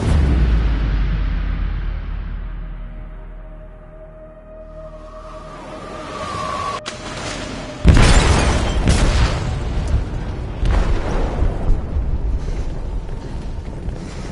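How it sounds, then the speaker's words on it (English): An explosion goes off aboard a ship in Detroit: Become Human. A low rumble fades, a sharp crack follows, then a heavy boom with sustained roaring and crashing debris. "They detonated an explosive in the hold. The ship is sinking, sir."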